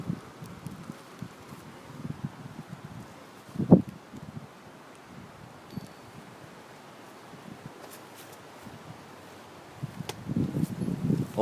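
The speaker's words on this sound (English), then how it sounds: "Very strong breeze out of the south." A strong southerly breeze blows outdoors in warm Southwest Florida, rustling and buffeting steadily at low volume, with a short thump near the middle and stronger gusts toward the end.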